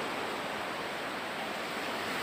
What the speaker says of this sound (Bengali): দেখুন এই যে সমুদ্রের ঢেউগুলো কি সুন্দরভাবে আসতেছে